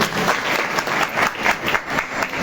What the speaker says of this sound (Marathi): त्याबद्दल महाराजांसाठी जोरदार टाळ्या झाल्या